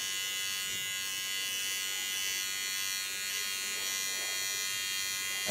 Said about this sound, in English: Creating ultra fine lines just by holding my clipper upside down.